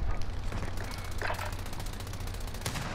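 Gunfire in Call of Duty: Modern Warfare crackles in rapid automatic bursts, fairly faint and continuous over a busy game soundscape.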